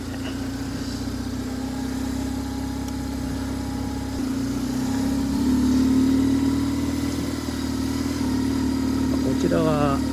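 A BMW R850R motorcycle idles steadily while warming up, its engine filled with extra oil, producing a continuous low rumble that swells slightly midway and runs alone throughout.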